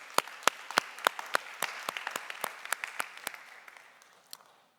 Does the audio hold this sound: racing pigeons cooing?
no